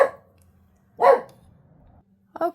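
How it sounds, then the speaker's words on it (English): A dog barks indoors, a few sharp separate barks spaced about a second apart, close and loud between stretches of quiet. "hopefully he's done barking"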